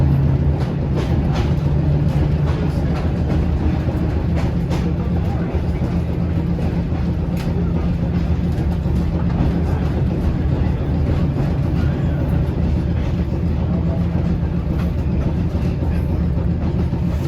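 Tourist train rolling past autumn foliage in the Poconos near an old Lackawanna depot, a steady loud rumble of rail cars with faint clatter, continuous and close throughout with no pauses.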